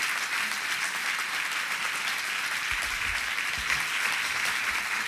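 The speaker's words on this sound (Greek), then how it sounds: "Θα ήθελα ένα θερμό ξανά χειροκρότημα για τη Φρίντα Ξίστρου." Steady applause from a crowd fills the whole stretch, dense and even clapping with no pauses or voices.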